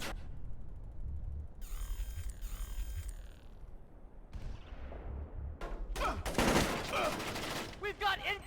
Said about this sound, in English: We've got incoming shots!